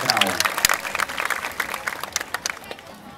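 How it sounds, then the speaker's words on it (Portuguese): Crowd applause at an outdoor Christmas lights celebration in São José da Tapera, Alagoas, a few seconds of irregular clapping that thins out, with voices mixed in underneath. "Salva de palmas"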